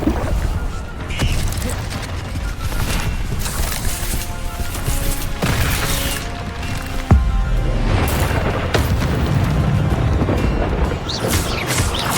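Confringo spell blast in Hogwarts Legacy, one sharp burst midway that cuts through dense, continuous game sound, with a voice heard faintly beneath.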